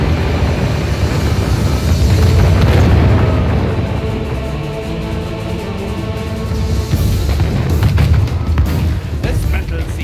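Arquebusiers fire during a Medieval II Total War battle, a dense rumble of booming gunfire and crackling volleys rolling on and off, with voices speaking over the din.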